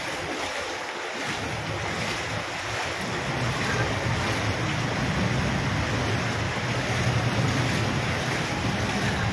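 Heavy floodwater on a flooded Manila avenue during a typhoon makes a continuous, loud rushing wash, like surf with wind buffeting the microphone, steady throughout and with no talking.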